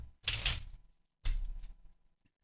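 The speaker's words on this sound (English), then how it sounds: "Just one quick shuffle," A deck of playing cards shuffled once, two quick riffling bursts of rapid papery flutter, close and distinct, separated by a short pause.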